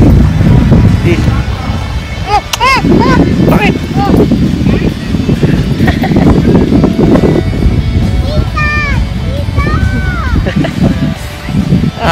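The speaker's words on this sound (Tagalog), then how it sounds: "Hangin kasi." Strong wind buffets the microphone outdoors during a Fourth of July outing, a steady loud rumble throughout with people talking over it.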